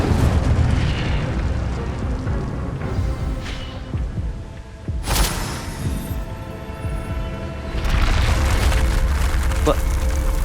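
Incendio fire spell cast in the video game Hogwarts Legacy, a loud deep booming burst with rumbling throb, a sharp crack midway and a swelling roar near the end.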